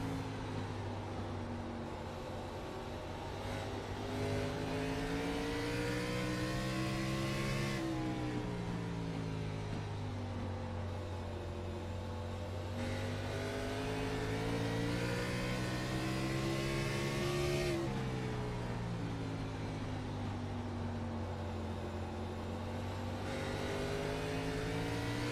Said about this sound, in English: Take a ride on board with Carter Casey as he's right in the middle of things.